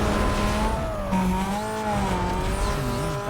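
In Need for Speed: Most Wanted (2005), a race car's engine roars loudly and steadily as it accelerates, with the pitch rising and shifting through gears and faint tire noise beneath, and no talk over it.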